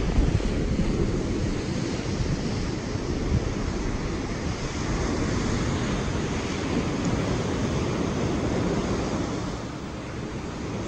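Ocean surf rolls in at Playa El Cocal, a wild beach running around rocks, heard as a continuous loud roar of breaking waves mixed with gusty wind buffeting the microphone.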